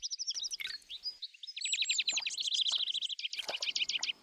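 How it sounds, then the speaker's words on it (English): Small birds chirp and trill in rapid bursts near a spring drinking pool, with bright, close calls overlapping and repeating, the rhythm fast and busy throughout. "Birds of all sizes go to these pools to drink and cool off"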